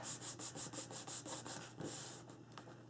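Paper is burnished along a fold for a handmade wedding album, giving quiet, rhythmic rubbing strokes, about ten quick passes and then one longer smear, close up with no voices.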